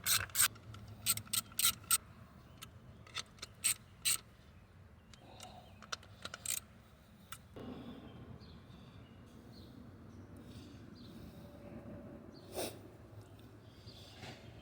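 Mechanical clicks and clanks of a wrench being worked on bolts at the frame of a Jeep Wrangler TJ, first a quick burst of sharp close clicks, then a steadier low background rumble with occasional knocks.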